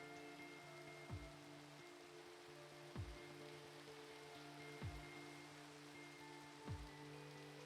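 Steady rain falls in the Minecraft video game, a soft continuous hiss with low, evenly spaced thumps recurring about every two seconds and a faint tonal background, quiet and without talk.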